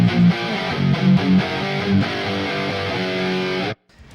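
Flubby high-gain distorted electric guitar tone: thick, loose low-end chugs and sustained saturated chords ring loud for several seconds, then cut off abruptly into near silence.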